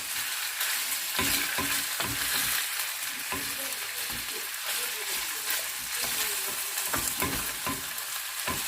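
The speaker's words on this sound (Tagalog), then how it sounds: "hintayin lang natin na mag-brown lahat yung ating beef" Beef stir fry browning in a hot pan, a loud continuous sizzle broken by repeated scraping stirs, close and without talk.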